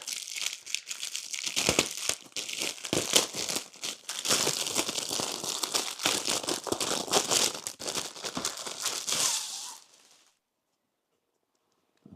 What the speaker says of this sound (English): And we'll take them out of the plastic.